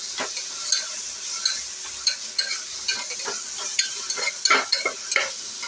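A spoon stirs ingredients in a cooking pan over a soft sizzle with ginger-garlic paste, scraping and tapping in irregular close strokes.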